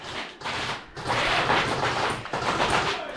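Rapid airsoft gunfire during an airsoft game in Vinnytsia, Ukraine, a continuous rattling burst, loud and close, with a brief gap near the start and another partway through.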